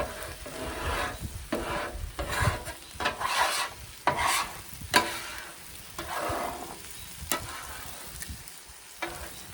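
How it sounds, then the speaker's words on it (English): A metal scraper rasps repeatedly across a greasy Blackstone griddle while chorizo sizzles, with steady back-and-forth scraping strokes, close and clear, and no talking. "take your scraper and kind of scrape around it. Pull it forward and scrape."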